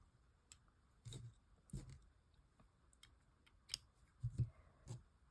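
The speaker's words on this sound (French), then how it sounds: "c'est à ce moment-là que je viens couper le fil" Scissors snipping tatting thread after finishing a motif for earrings, several faint crisp snips and small clicks scattered through a quiet room, close and soft.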